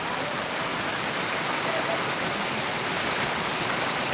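Heavy monsoon rain in Buldhana, Maharashtra, pours continuously at a constant loud level, a thick wash of falling water with no voices.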